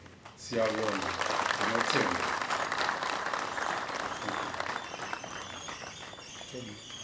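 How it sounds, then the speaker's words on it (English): Sustained audience applause fills a hall at a Zimbabwe Republic Police event after the Commissioner General's speech, dense clapping swelling quickly then slowly tapering, with a voice speaking over it at the start and near the end. "Ladies and gentlemen, a round of applause for the Commissioner General of the Zimbabwe Republic."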